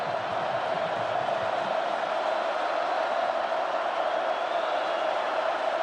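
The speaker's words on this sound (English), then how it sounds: "Listen to the crowd here in the Coliseum." A packed crowd at the Los Angeles Coliseum during a USC home college football game against Fresno State in 2005 makes a steady, dense, loud roar that holds without a break through the whole stretch.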